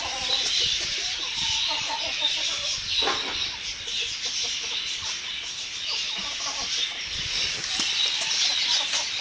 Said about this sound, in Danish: Kluk, kluk, kluk, kluk, kluk, kluk, siger de.